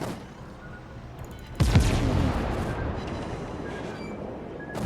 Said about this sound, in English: It's a full broadside.